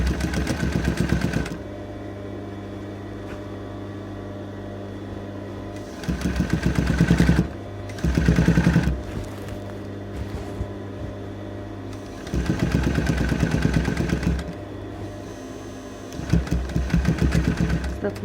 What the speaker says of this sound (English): So I'm stitching through the boning right through the lining,